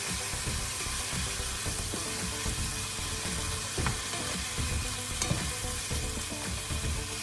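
Sliced chorizo sizzles and crackles steadily as it sautés in a pan with peppers, with occasional stirring clicks, close and continuous with no voices.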